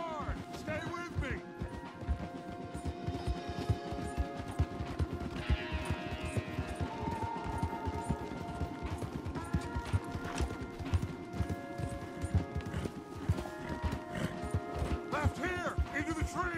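Horse hooves gallop in Red Dead Redemption 2 in a rapid, continuous clip-clop rhythm at a steady pace, with voices talking over it and tonal sounds in the background.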